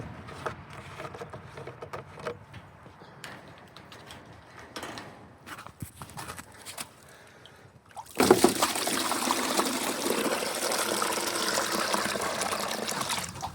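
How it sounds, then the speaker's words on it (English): Water trickles and gushes steadily into a jug being refilled during animal-care chores, loud and close for the last five seconds, after quieter mechanical clicks and handling noises. "And we'll refill that water jug here"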